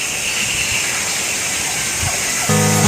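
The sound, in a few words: flowing water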